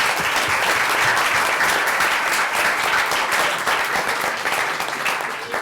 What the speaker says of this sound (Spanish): Te damos un aplauso de agradecimiento